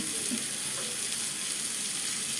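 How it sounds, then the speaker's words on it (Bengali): Onions fry in a pan for potol chorchori, giving a steady, close hissing sizzle that stays even and unbroken with no talking. "পটল চরচড়ির জন্য এখানে পেঁয়াজ ভাজা হয়ে গেল"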